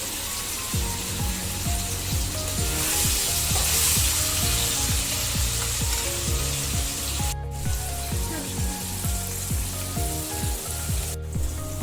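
Paneer pieces fry lightly in a pan with a pinch of salt, giving a steady, close sizzle broken by soft stirring scrapes, with no voices.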